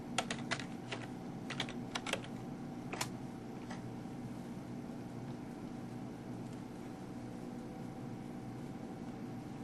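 Quick bursts of keystrokes on a computer keyboard as a password is entered, a handful of close, light clicks in the first few seconds, then a quiet steady background hum.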